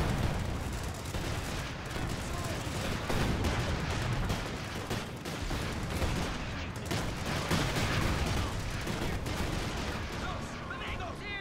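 Mortar and artillery fire in the wartime strategy game Company of Heroes 2, a dense barrage of repeated booms and crackling blasts sustained over the whole stretch, loud and chaotic, with a voice talking over it.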